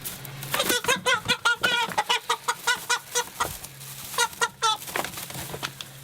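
A docile chicken held upside down on an organic farm clucks in a quick run of loud, close, stuttering calls, pausing briefly and then resuming with a few more clucks, with no speech.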